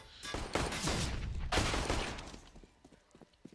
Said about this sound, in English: What was that headshot from Snacks?